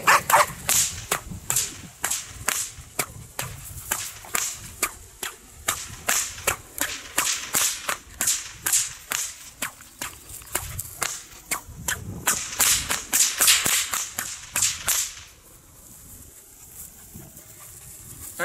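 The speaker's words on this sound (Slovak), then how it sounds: "Skúsime si to teraz pomaličky s bičmi" Two whips cracked in the Queensland crossover technique give a rapid, regular series of sharp, loud snaps, about two per second for roughly fifteen seconds, then stop, leaving quiet background.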